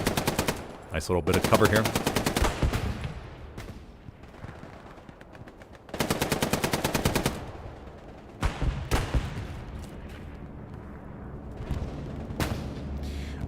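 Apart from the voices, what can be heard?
machine gun fire in video game Hell Let Loose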